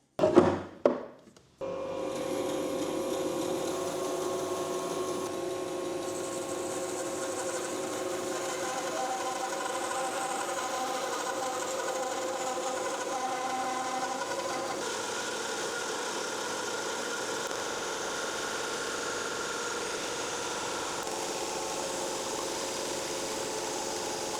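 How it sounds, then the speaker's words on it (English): A saw with a carbide-tipped blade cuts wood set to its maximum thickness: a brief clatter as it starts, then a steady, droning mechanical hum that holds for over twenty seconds without speech. "setting up the saw to cut max thickness"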